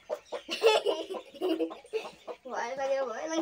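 Chicks and hens cluck and chirp close by in a rural Assamese setting. A person talks over the birds.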